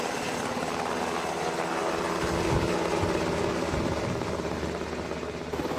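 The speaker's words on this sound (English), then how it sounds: "Meet the iconic UH-60 Black Hawk helicopter." A UH-60 Black Hawk helicopter's steady rotor thump and engine whine drone continuously, fairly close and loud, with no voices.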